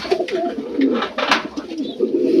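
Pigeons coo in short, repeated throaty calls at close range, several overlapping bursts during pairing in a loft, with soft rustling between them.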